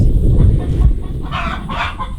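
Chickens cluck loudly and close by in a short burst, with a few higher squawks near the end.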